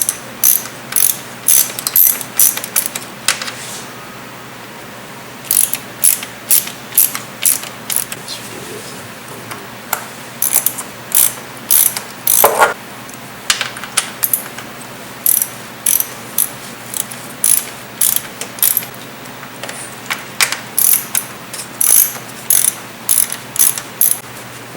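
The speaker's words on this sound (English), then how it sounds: "You're going to have to do about 2 stages of tightening these bolts to avoid warping the valve cover" Ratchet tightening valve cover bolts on a BMW E36 in bursts of rapid clicking pawl strokes, close and crisp, with short pauses between runs and no talking.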